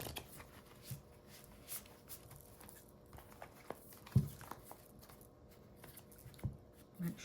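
Soft, irregular shuffling and riffling of a deck of tarot cards, close by and quiet, with occasional sharper snaps of the cards amid light rustling and no speech.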